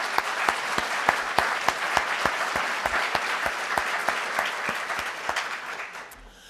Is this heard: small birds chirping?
no